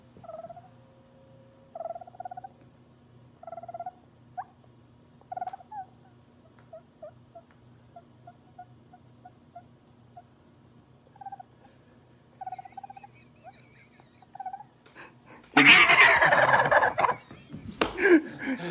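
A wild turkey hen calls in a quiet outdoor setting with a string of short, soft yelps spaced a second or two apart, ending in a sudden loud, harsh burst of noise.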